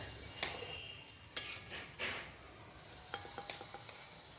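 Rasam vadas fry in oil with a soft, steady sizzle, punctuated by several sharp metallic clinks and taps of a utensil against the pan, fairly quiet and close.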